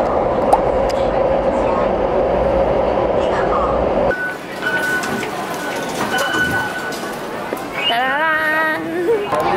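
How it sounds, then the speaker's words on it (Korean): A Taipei metro train on the Songshan-Xindian line rumbles in a steady broadband roar, shifting in tone partway through, with a brief tonal sound near the end and people talking over it. "처음 타보는 대만 지하철"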